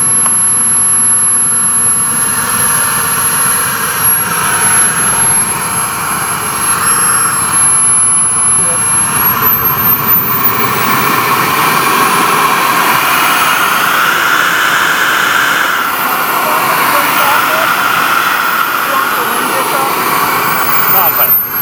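An HSD Super Viper model jet with a turbine engine flies at a model airfield, its loud, steady turbine roar and whine rising and falling in pitch as it passes overhead.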